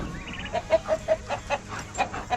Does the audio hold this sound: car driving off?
no